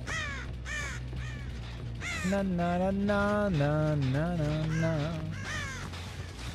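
A crow caws repeatedly nearby, harsh drawn-out calls in uneven bursts, while a person speaks and hums over and between them.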